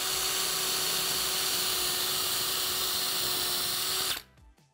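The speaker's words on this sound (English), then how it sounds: "I'm going to drill some pilot holes." A power drill drilling pilot holes in wood whines steadily at high speed for about four seconds, then cuts off and spins down, close by with no talking.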